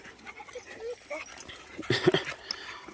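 A bulldog in a cage at a kennel makes short whimpers and yaps, with a denser burst of barking near the end over a busy background.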